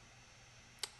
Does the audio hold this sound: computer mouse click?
yes